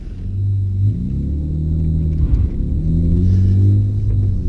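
Low, throaty rumble from a 1996 BMW E36 320i coupé engine while driving, loud and close, the pitch sliding up and down with throttle changes across a few seconds, no voices.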